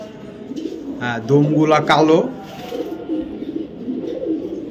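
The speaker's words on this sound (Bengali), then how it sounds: "একটা লাল গলা একটা মাদি কবুতর ভাই" Pigeons coo softly in the background at a pigeon sale that includes a red-necked female and Budapest breeds, while someone talks close by over them.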